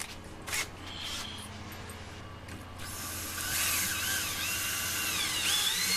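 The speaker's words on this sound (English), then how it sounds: "drilling my holes, putting it on the pole" A power drill boring holes while mounting a homemade TV antenna, beginning with a few brief whirs and then a sustained, rising high-pitched whine that grows louder and continues steadily to the end.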